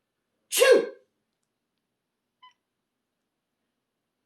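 A single close, loud human sneeze bursts out near the start, then near silence follows with only a faint short beep later on.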